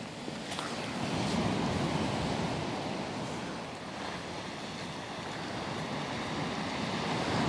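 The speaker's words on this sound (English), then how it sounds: "The roll of the ocean." Ocean waves roll in a steady, hissing wash of surf, swelling slightly early on then settling into a continuous broadband roar with no voices.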